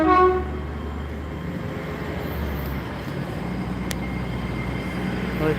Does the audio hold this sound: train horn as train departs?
yes